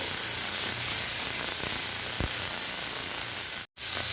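Small mourola fish frying lightly in a pan, giving a steady, even sizzling hiss with one faint pop and a brief dropout near the end.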